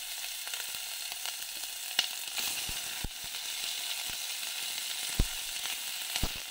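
Onion sizzles and fries in coconut oil with mustard seeds and lentils, a steady crackling hiss with occasional sharper pops and a few stirring clicks.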